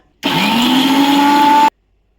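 A mixer grinder runs on sesame seeds and soaked almonds in a single loud, steady whirring burst of about a second and a half that starts and stops abruptly, with a slightly rising motor pitch.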